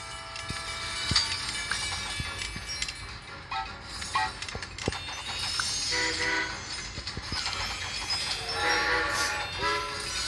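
Trains rumble and clatter along in the Train Conductor World video game while several horn blasts sound one after another, rising over a busy mechanical background.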